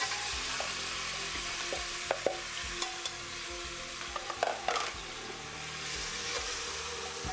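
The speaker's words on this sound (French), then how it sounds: "Et ensuite, on ajoute la viande qui est aussi assaisonnée." Seasoned meat frying in hot oil inside a pressure cooker, with a steady close sizzle and occasional sharp pops and spatters over about seven seconds, no voices.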